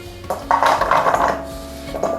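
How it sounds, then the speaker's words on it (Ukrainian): Sliced carrot rounds tumble into a bowl with a short clattering rattle of pieces against the dish, then a lone small knock, close by in a quiet kitchen. "Нарізану морку перекладаю в миску."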